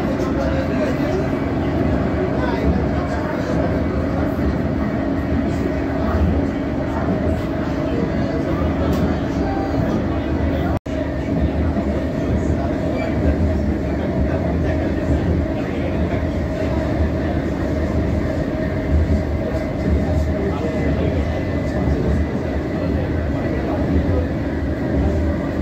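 Kolkata Metro train running between Baranagar and Noapara stations on the Blue Line, a steady rumbling, rattling drone of wheels and carriage that stays loud and continuous throughout, with faint voices mixed in.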